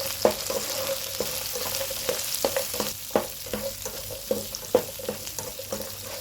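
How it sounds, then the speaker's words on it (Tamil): Onions, green chillies and cashews sautéing in a pan for egg kurma, a steady sizzle broken by regular scraping stir strokes, close and moderately loud with no talk. "வெங்காயம், பச்சை மிளகாய், இந்த முந்திரி பருப்பு எல்லாம் நல்லா வதங்குற மாதிரி நல்லா வதக்கிக்கலாம்."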